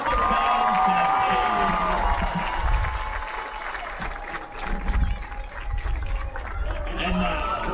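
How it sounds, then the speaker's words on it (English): Crowd at a high school football game's halftime show applauding senior marching band members, clapping and cheering heard from a distance over a public-address voice and stadium noise. "Let's give a big round of applause to these fine members of the band family."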